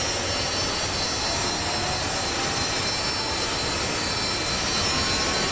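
Saab SK-60B jet engine starting in the DCS flight simulator, a steady, loud whine and roar that holds evenly throughout with no speech.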